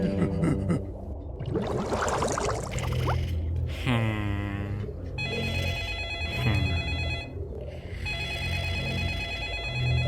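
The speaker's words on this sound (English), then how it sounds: "Wow, the phone ringing at 12 a.m." A telephone bell rings in short repeated trills in a cartoon parody scene, mixed with tonal effects and swooshes, with silent gaps between bursts.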